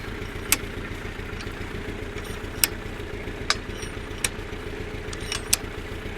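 A DW404 tractor engine idles with a steady low throbbing rumble, accompanied by a few sharp metallic clicks at irregular intervals.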